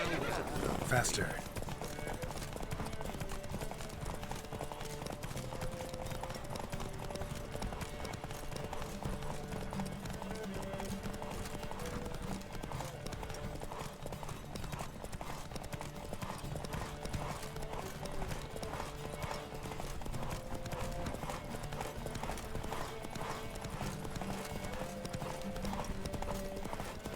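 Rapid, steady hoofbeats of horses galloping together in a race in The Witcher 3 video game, a continuous drumming rhythm with music playing underneath, with an occasional whinny.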